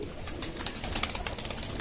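Pigeons cooing on a rooftop loft of champion breeding birds in Bhopal, several soft repeated coos overlapping close by, with light rustling and no voices.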